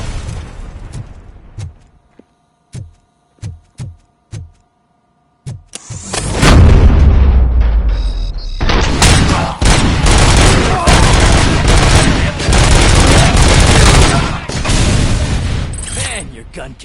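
RoboCop Rogue City gunplay on PS5: a few isolated heavy shots first, then a long, loud barrage of rapid overlapping fire and booming impacts, with voices talking underneath.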